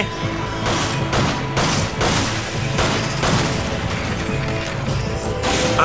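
Gunfire in the video game Resident Evil 5, loud repeated shots and crashing impacts in dense bursts, filling the whole stretch with a constant loud game din.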